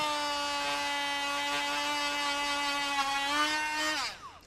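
A Dremel rotary tool spins a felt polishing pad with a steady, high, whining buzz close up, then winds down and stops near the end.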